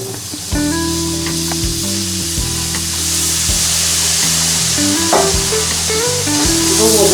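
Steady sizzling and frying as liquid goes into a hot flour roux for a white sauce, with stirring scrapes and clinks repeating throughout, close and fairly loud.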